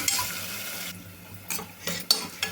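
Onions sizzle in a hot pan with a steady crackle, broken by a few scraping stirs of a utensil.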